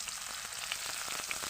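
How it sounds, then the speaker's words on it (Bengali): Onion frying in a pan for a fish and potato curry, a quiet, even sizzle with faint crackles, close by and alone. "এখন আমি এই যে পেঁয়াজটাকে ভেজে নেব"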